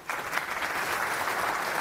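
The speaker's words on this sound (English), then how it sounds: "So a round of applause for a Go contributor." Audience applause at a FOSDEM 2024 conference talk, a dense burst of clapping from a seated crowd that holds steady for under two seconds, with no voices over it.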